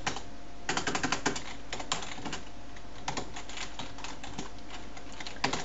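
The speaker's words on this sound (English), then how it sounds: "Now type ELSE, else, opening and closing brackets" Code is typed on a computer keyboard in quick clustered bursts of crisp key clicks with short pauses between, close up and alone without speech.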